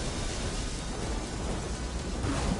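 Thunder from lightning with heavy rain, a loud, unbroken wash of rushing rainfall and deep rolling rumble filling the whole stretch without pause.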